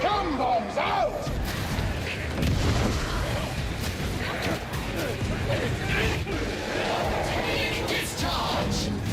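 Grenade explosions go off in Warhammer 40,000: Darktide amid dense combat, with bursts, crashes and booms piling up into constant loud chaos as voices talk throughout.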